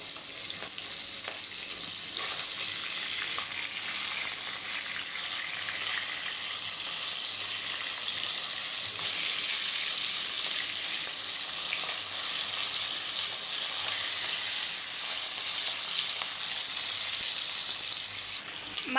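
Rohu fish pieces coated in turmeric and chili frying in hot oil in a wok, a steady, dense sizzle that holds close and loud throughout.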